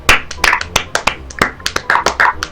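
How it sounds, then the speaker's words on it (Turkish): A small group claps for themselves, with about a dozen sharp, close hand claps in an uneven, loose rhythm over a couple of seconds. "Kendimizi bir alkışlayalım."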